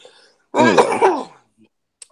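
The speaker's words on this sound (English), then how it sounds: "Editor, please note that cough." A single loud, close throat-clearing cough from one person, a rough, harsh burst lasting under a second, set between near silence.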